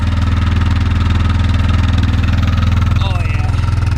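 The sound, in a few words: 2004 Yamaha Kodiak 450 ATV engine idling after cold start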